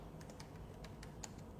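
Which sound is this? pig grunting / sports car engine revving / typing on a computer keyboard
typing on a computer keyboard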